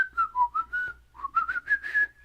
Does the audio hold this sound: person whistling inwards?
yes